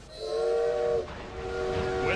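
Train in the video game Assassin's Creed Syndicate, a sustained tonal whistle or horn blast that cuts off, then a fainter rising tone returns over rumbling rail noise.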